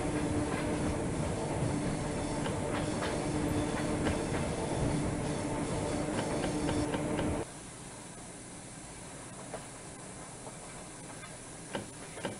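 Suburban electric train running in the ZDSimulator train game: a loud, steady rumble with hiss and track clatter, dropping to a quieter, lighter rolling sound about halfway through.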